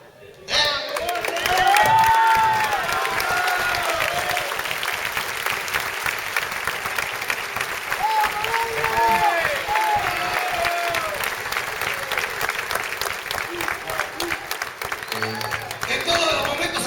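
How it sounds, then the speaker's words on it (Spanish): Rock concert crowd at a packed theatre applauding and cheering for a long stretch, a dense wash of clapping with whistles and shouts rising over it, near and loud. "Un segundito para aplaudir a la gente que está presente"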